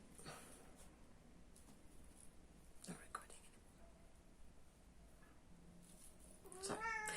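A pet cat meows softly near the end, following a long stretch of faint, quiet indoor murmuring with low whispery sounds.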